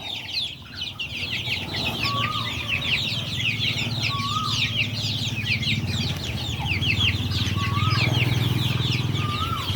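Hens clucking and squawking inside a chicken coop, a steady layer of close, overlapping calls with scattered short cries over low farmyard background noise.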